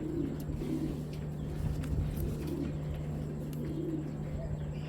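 A pair of racing pigeons, one an imported hen, coo in soft repeated throaty bursts close by, over a constant low electrical hum.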